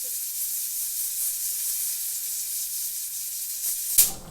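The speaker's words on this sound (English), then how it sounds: "you can see that the weight is starting to jiggle. We're almost to pressure." A continuous bright hiss of escaping steam from a pressure canner as its weight jiggles, with a sharper burst of hissing near the end.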